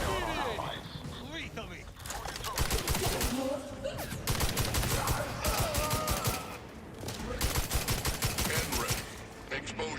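Dense rapid-fire gunfire and explosions from a space-themed video game, loud and continuous in bursts with short lulls, with game voices talking over the battle.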